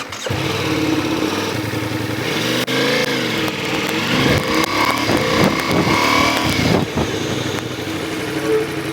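A motorcycle runs steadily under throttle, its engine drone continuous and loud, then eases off as the rider cuts the gas, pulls the clutch and brakes hard with the front brake during a braking drill.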